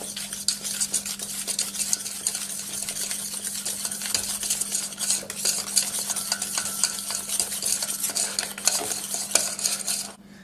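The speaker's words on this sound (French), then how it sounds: "Une fois les jaunes blanchis avec le sucre, on ajoute la maïzena en une fois et on remélange." Egg yolks, sugar and cornstarch being beaten together in a bowl for pastry cream, a fast continuous whisking rattle with a low steady hum beneath, stopping abruptly at the end.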